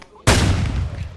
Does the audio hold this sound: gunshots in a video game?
yes